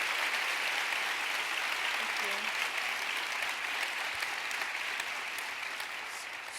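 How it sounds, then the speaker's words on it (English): Sustained applause from a KIPP School Summit crowd for Sal Kahn and Angela Duckworth, a thick continuous roar of clapping that stays loud and even before easing slightly at the end. "Can we give Sal Kahn and Angela Duckworth another round of applause, please?"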